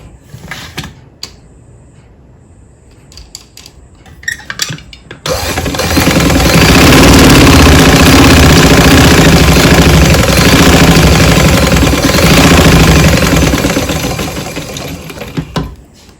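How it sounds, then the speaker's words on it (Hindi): A domestic sewing machine stitches a seam in a fast, steady mechanical whir lasting about ten seconds, loud and close, preceded by a few short clicks and handling taps. "इसको करने के बाद एक और सिलाई लगाकर आपको दिखाती हूँ।"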